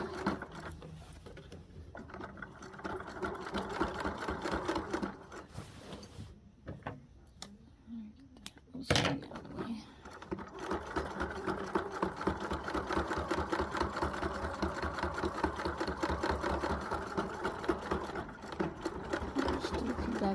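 A sewing machine back-stitches a seam on a utility kilt, running in rapid rhythmic bursts of needle chatter with a brief pause and clunk midway.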